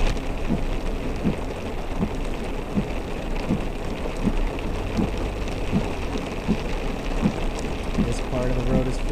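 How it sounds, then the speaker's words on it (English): Steady heavy rain pours down in a dense, continuous hiss, with rhythmic dripping or splashing taps repeating throughout. "this was a very rainy day during May."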